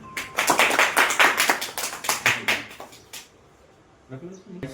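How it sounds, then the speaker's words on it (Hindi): Applause at a school talent search competition: a dozen or so sharp, uneven hand claps for about three seconds, then tapering off into quiet before a brief voice. "ताली बजाइए।"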